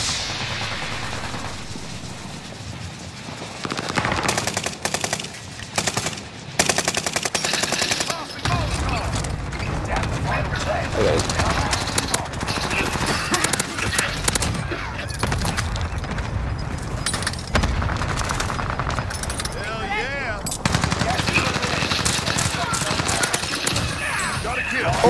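Rapid bursts of video game gunfire crackle over a busy, dense mix of game sounds, with intermittent bangs and a player's voice talking throughout.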